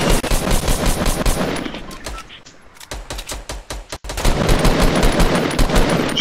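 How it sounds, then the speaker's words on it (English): Rapid automatic gunfire from the Fortnite video game, loud and dense bursts of shots with a brief lull in the middle before firing resumes heavily. "Keep shooting."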